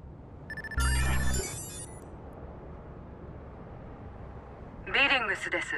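Ringtone from a phone call in the video game Watch Dogs: Bad Blood: a loud electronic ring burst, then quiet game ambience and a brief voice near the end.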